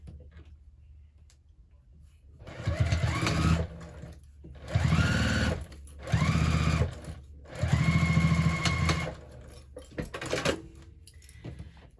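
A sewing machine runs in four or five close, loud bursts of rapid stitching, joining the center pieces of a hobo bag with short quiet pauses between runs.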